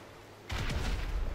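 Gunfire in GTA V rings out abruptly after half a second of quiet, a loud burst of shots booming and crackling close by, with no talking over it.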